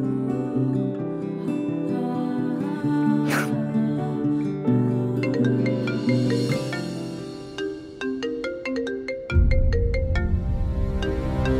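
A mobile phone ringtone plays loudly on its own as a tonal melody with repeated chiming notes, then cuts off abruptly near the end when the call is rejected.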